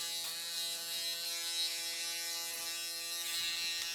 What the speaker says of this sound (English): just jump back on my full shaver and just see if I missed anything